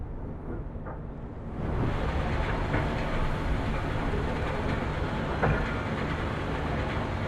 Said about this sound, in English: You hear the clanking of my motor?